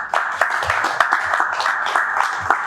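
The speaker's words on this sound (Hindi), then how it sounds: "सो हम बहुत अच्छी तरह से तालियों से उनका स्वागत करेंगे" Audience in a live workshop hall clapping to welcome a speaker, a steady, moderately loud patter of many hands over a short stretch with no voices on top.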